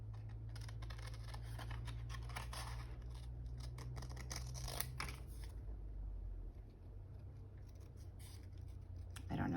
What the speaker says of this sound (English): I need to let the scissors do the cutting and not my hand.